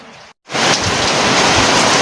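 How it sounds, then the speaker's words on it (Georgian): Heavy rain in Athens, a loud, steady, close hiss of downpour that starts after a brief cut and continues unbroken, with no voices. "ნახეთ როგორ წვიმს"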